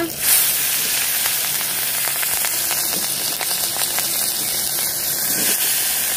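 Two bay leaves and four green chillies fry in hot oil, a loud, steady, close sizzle that holds evenly for several seconds with faint crackles running through it.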